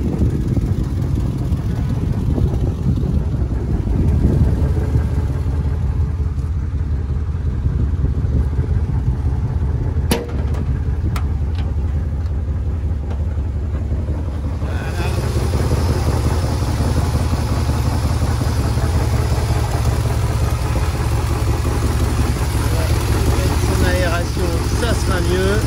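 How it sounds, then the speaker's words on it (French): A 1966 Chrysler New Yorker's big engine idling, a steady low rumble running the whole time, close and loud, with someone talking over it in the first half. "Un moteur qui ronronne bien."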